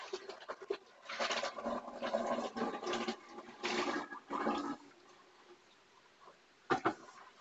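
Hot water runs over hands at a sink in a kitchen, close and fairly quiet, in uneven splashing bursts with pauses between them.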